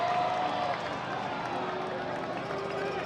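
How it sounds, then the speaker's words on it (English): Stadium crowd at the 2022 UFA ultimate frisbee championship between Chicago and New York reacting to a referee's call, a steady broad roar of many voices with some cheering and clapping, sustained and fairly loud throughout. "Crowd doesn't like the call, but it's correct."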